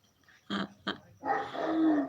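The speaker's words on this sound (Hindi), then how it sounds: "देखो बहुत भौंक रहा है ना। कोई आ जाता है ना, बहुत भौंकता है।" A dog barks loudly nearby in two short sharp bursts, then lets out a longer rough, growling bark, with no talking over it.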